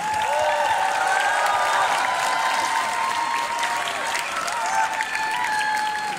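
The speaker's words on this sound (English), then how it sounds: "Let's give them a big round of applause" Loud, sustained applause with scattered cheers from a convention crowd at an anime con closing ceremony, thanking the volunteers; the clapping stays dense and steady throughout, with whoops and tonal shouts rising above it.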